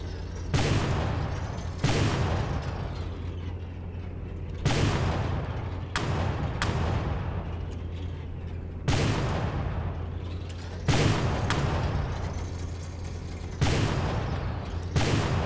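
Turret guns on a ship in the naval combat game From the Depths fire heavy, booming shots at irregular intervals, each blast trailing off into a lingering rumble over a constant low engine drone.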